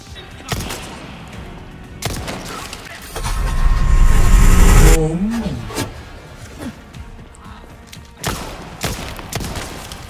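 Gunfire in the video game Resident Evil 4 Remake: sharp, loud shots spread irregularly across the stretch, with a sustained roaring burst in the middle and a low growl after it, while someone talks quietly.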